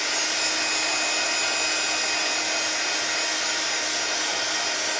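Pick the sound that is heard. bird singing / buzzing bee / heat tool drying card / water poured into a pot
heat tool drying card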